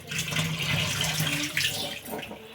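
Water pouring into a steel pot in a home kitchen, a close, continuous rushing splash lasting a couple of seconds.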